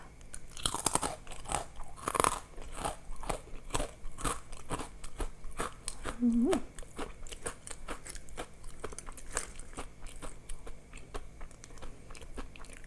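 Loud, close crunching of crisp raw vegetables being bitten and chewed, rapid crackling bites repeating over and over, with a brief hum-like vocal sound partway through.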